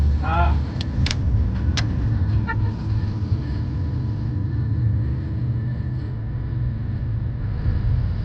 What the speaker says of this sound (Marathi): अजून गाड्या येतात.